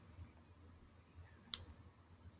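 A single faint, sharp mouse click stands out briefly against a quiet low hum of room noise, with nobody speaking.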